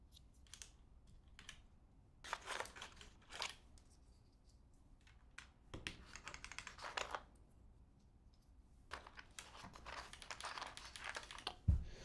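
Keys on a custom mechanical keyboard clack in quick bursts of typing, separated by short pauses, quiet and close in an otherwise still room.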